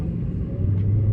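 A Mercedes C63 sedan on a practice lap around a race track, its engine a steady low rumble heard from inside the car, rising slightly in pitch toward the end.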